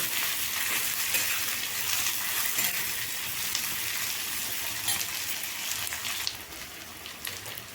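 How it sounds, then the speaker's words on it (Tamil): Tender brinjal frying in plenty of oil, a loud, dense, hissing sizzle that runs without a break, with stirring scrapes mixed in. "நறுக்கி வச்சுருக்க பிஞ்சு கத்திரிக்காயை நம்ம போட்டோம்னா அப்படி பெரட்டி எடுத்தோம்னாலே போதுங்க"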